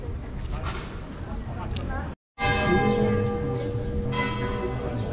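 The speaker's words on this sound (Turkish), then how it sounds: "Çanlar çalıyor." Church bells ring out across a town square in France, their tones sustained and overlapping over a steady background murmur, with a brief dropout early on.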